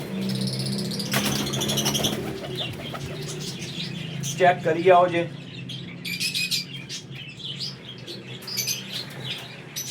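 Pigeons of an old Faqir Gul flying breed flap their wings and call in a loft, with brief bursts of wingbeats and scattered bird calls close by, under someone talking.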